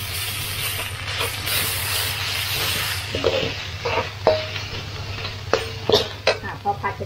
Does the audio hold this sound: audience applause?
no